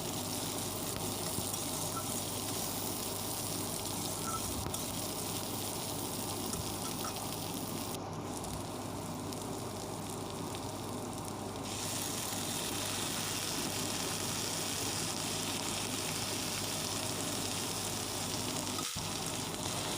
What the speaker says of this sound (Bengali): পরিমাণ মতো লবণ পরিমাণ মতো হলুদ দিয়ে ভালো করে ঢেকে আমি এটাকে ভাজবো